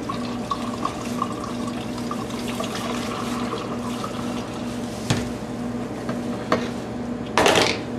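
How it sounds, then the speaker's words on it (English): Warm distilled water poured and stirred into homemade biodiesel, a steady liquid wash over a constant low hum, with a couple of sharp clinks near the end. "we're going to add a little bit of warm distilled water to wash our"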